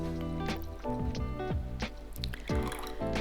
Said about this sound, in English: add more of the water, about 50 to 100 milliliter, again 70 to 80 degrees